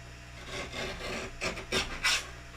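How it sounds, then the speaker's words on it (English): Scissors trimming a paper circle on a Christmas card, a steady papery rasp of several close cuts followed by three louder snips near the end, with no voices. "and I'm going to trim it"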